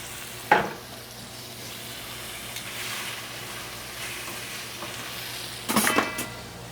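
Chicken fries in oil in a pan with a steady, moderate sizzle throughout, broken by a sharp clatter near the start and a louder burst of spatter and clinks toward the end.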